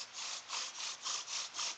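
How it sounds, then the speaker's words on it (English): A bow drill spindle rubs back and forth against wood while being burned in, giving about seven even, rhythmic rasping strokes, close and fairly quiet. "Then you want to take your spindle and your bow drill, and your pressure block, and you want to do what's called burning it in."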